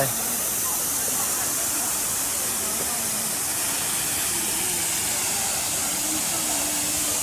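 Pha Luang waterfall in a forest park in Ubon Ratchathani, Thailand, a loud, constant broadband rush of falling water with no pauses or breaks.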